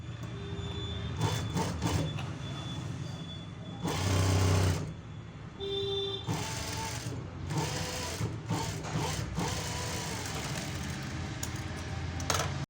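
A sewing machine stitches khaja patti (buttonhole strip) onto fabric in steady bursts, its needle running in a fast rhythmic whir that starts and stops several times, loud and close with no talk.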